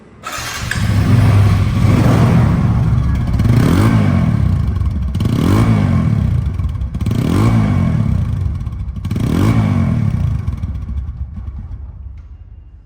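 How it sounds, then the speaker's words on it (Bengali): A 2019 TVS Apache RTR 2V motorcycle engine runs close by and loud, revved in four or five rising surges that each fall back to idle, then cuts off at the end. "বাইকটি সাউন্ড কোয়ালিটি শুনুন"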